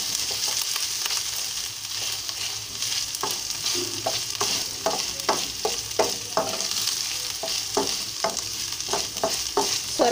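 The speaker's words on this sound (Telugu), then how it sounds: "ఈ పచ్చివాసన పోయేంత వరకు వేయించుకోవాలండి" Ginger garlic paste frying in a pan, a steady close sizzle with repeated scrapes and clicks of a spoon stirring through it, no voices.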